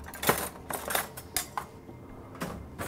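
A spoon stirring garbanzo beans and pistachios in a bowl, giving a few irregular, close clinks and scrapes of metal on the dish, fairly quiet, with no talking.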